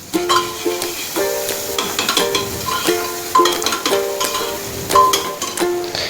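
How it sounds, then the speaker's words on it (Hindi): Onion and tomato stirred and frying in a pan, a soft sizzle under repeated clinking scrapes of a spoon against the metal, in a steady rhythm of knocks close by, with no talk. "यहाँ पर मैं प्याज डाल दी, प्याज अभी मेरी भून रही थी।"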